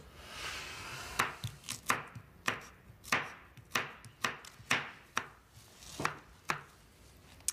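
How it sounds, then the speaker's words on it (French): Vegetables, including onions, chopped into small pieces with a knife on a cutting board, about a dozen crisp, evenly spaced knocks close up with no voices. "couper aussi petit, tes légumes"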